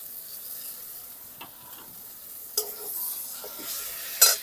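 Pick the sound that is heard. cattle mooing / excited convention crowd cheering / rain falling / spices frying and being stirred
spices frying and being stirred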